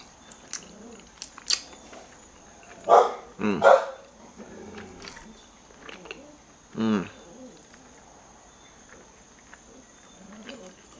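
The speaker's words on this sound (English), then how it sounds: "You can hear my dogs out there." Dogs bark and scuffle a few times at a distance, brief yaps and thumps scattered over a quiet background.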